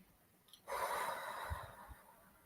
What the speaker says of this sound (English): let's take a breath together here